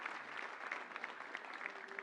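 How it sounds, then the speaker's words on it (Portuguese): A church congregation claps in a steady, fairly faint round of applause that continues throughout with no voices over it. "Aplauda ao Senhor."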